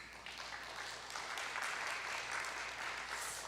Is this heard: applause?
yes